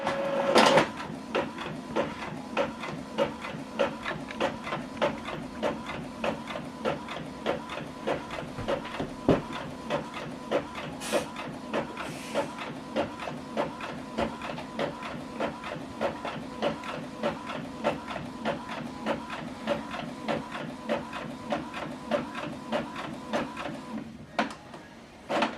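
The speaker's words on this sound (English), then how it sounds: "So this document is going to print out, okay, 1 page double-sided." An Epson Workforce printer runs a one-page double-sided print job, its steady mechanical whir overlaid with a rapid, regular ticking of the print head and feed rollers that continues evenly for the whole stretch, heard close and alone.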